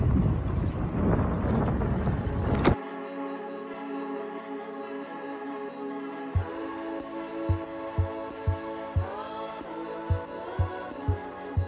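Heavy rain pouring outdoors in Chiba, Japan, a dense, loud hiss of falling drops for almost three seconds before it cuts away to a quieter tonal background with regular soft clicks.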